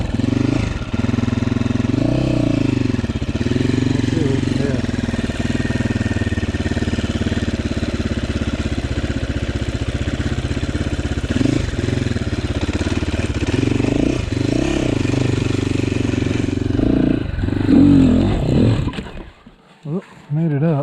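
A GPX Moto FSE300R enduro motorcycle runs steadily on tight woods single track, its loud mid-pitched engine droning with small throttle swells for most of the stretch before cutting out near the end.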